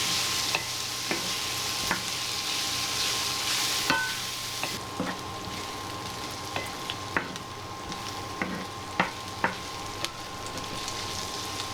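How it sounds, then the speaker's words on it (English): Bacon and onion frying in a pan, a steady close sizzle with a faint tone running under it and scattered clicks and scrapes of stirring. "It's in the pan now and it's frying with the bacon"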